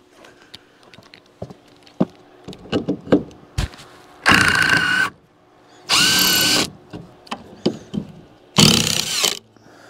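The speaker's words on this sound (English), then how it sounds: "let me get my drill over there and we'll get that door out of there" A power drill whirs in three loud bursts of a second or so each while removing a door, separated by clicks, knocks and handling of hardware.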